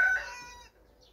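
A rooster near a beekeeper's hives gives the tail end of a crow, a single short, bright call that cuts off and leaves near silence.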